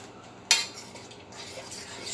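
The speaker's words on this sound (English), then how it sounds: "Stirring." Metal utensil stirring food in a saucepan while making breakfast, a sharp clink at first followed by softer scraping and clattering, fairly close and moderately quiet.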